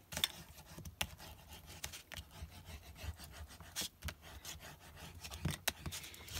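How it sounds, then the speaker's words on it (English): Sticky silver strips are burnished down by hand, giving faint, close rubbing and scratchy strokes in an uneven, rapid rhythm, with no voices. "So now I just gotta burnish that down."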